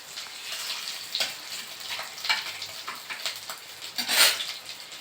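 Green chilies and bay leaves frying in hot oil, a close crackling sizzle with irregular pops and spits, one louder burst near the end.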